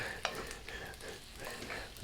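Butter sizzles and crackles faintly in a hot, tall-sided pan while making garlic shrimp pasta, with soft stirring clinks over the low frying hiss.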